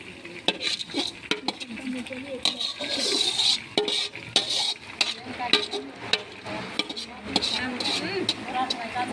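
Pav bhaji vegetables with onion in groundnut oil being stirred in a pot: repeated scraping and metallic clinks of a spoon against the pot over a soft sizzle, with people talking nearby.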